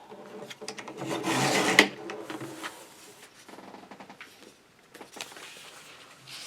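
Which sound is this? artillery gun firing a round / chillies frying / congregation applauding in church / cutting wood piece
cutting wood piece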